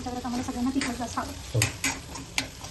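Green chilies and ginger added to a hot pan for paneer bhurji sizzle close up, with bursts of frying crackle and a few clinks and scrapes of a stirring utensil against the pan over a short stretch, with a voice faintly audible underneath.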